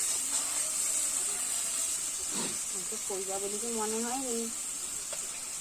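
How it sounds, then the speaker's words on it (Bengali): Raw meat hits hot oil cooked with spices, giving a steady, close sizzling hiss that runs throughout, with a voice briefly speaking over it partway through. "এবার মাংসটা দিয়ে দিল বোন"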